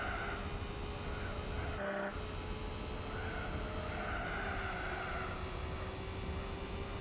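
A small 3-cylinder 660cc engine in Gran Turismo 4 holds a constant high, thin drone with a whiny, blender-like buzz, steady and fairly loud, with a brief dip in the middle.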